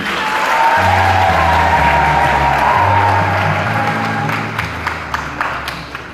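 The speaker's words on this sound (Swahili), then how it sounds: "Makofi na vigelegele kwa Mungu" Easter congregation in a Tabora church breaking into loud, sustained applause with shrill ululation rising above the clapping, fading into scattered claps near the end.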